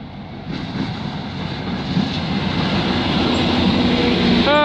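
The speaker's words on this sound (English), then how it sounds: "I believe we got GO train 6, engine 663 heading east." GO Transit train 6, hauled by engine 663, rolls past heading east on a commuter line, a steady loud rumble of wheels and cars building slightly, with a brief high squeal near the end.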